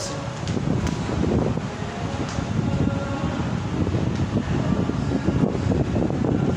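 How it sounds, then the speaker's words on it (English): Steady wind buffets the microphone with a constant low rumble and roar, loud and unbroken throughout. "It's too breezy here"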